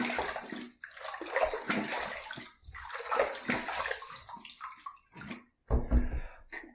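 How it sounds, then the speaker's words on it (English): Running water rinses a Rockwell T2 adjustable safety razor, with a splashing, gushing flow that comes in bursts separated by short pauses, close and fairly quiet. "Let's rinse."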